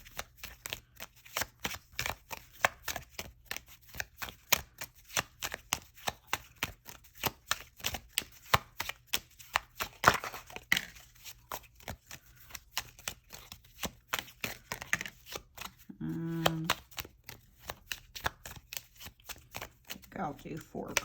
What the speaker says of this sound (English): I'll do 4 cards because I like the number 4 for the divine masculine.